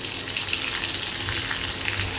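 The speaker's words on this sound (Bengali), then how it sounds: "মাছের সাইজগুলো বেশ বড় বড়ই আছে, একদম লাল লাল করে ভাজবো।" Large pieces of rohu fish fry in hot oil, giving a steady, close sizzle with light crackles and spits and no speech.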